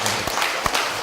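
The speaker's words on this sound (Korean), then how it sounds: "다시 한번 박수로 하나님께 영광을 올려드리겠습니다" A church congregation applauds during a prayer service, a brief burst of many hands clapping at once, heard from within the room.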